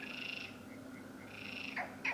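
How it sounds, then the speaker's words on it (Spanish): Two frogs calling outdoors, faint, steady high-pitched trilling with a few sharper chirps near the end, no voices. "Dos ranas."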